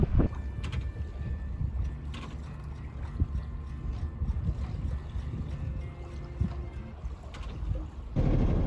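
A sailboat under full sail with two reefs off the west coast of Portugal, with a steady rush of wind and water against the hull and occasional light creaks and knocks.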